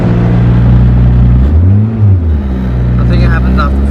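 Car engine accelerating and easing off, a loud close rumble rising then dipping, with a person talking over it throughout; a possible gearbox clunk is not clearly distinct.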